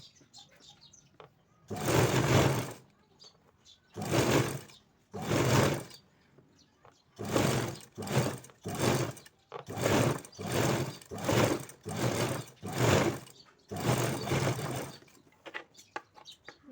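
A sewing machine stitches fabric for a small Janmashtami deity dress, running in a series of loud close whirring bursts of one to two seconds separated by short pauses, with faint sounds of handling between runs.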